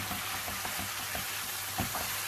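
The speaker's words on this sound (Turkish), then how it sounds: "Güzelce ısıttık. Şimdi üstüne birazcık bulgur koyuyoruz." Bulgur sizzling steadily in a heated pan alongside lamb shank, with a continuous broadband frying hiss and occasional soft stirring clicks, close and fairly loud, no voices.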